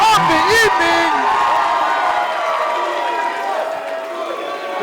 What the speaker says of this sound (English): The capacity crowd here showing their appreciation to Don Julio.